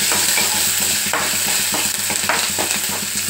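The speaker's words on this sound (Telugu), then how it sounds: "ఇందులో కరివేపాకు, పచ్చిమిరకాయలు వేసుకొని" Curry leaves and green chillies fry in hot tempering for oats pongal, a steady loud sizzle with repeated stirring scrapes throughout and no voices.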